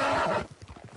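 A wild Appaloosa horse in Red Dead Redemption 2 lets out a loud, close whinny that breaks off after a moment into low, rhythmic snorting and rumbling.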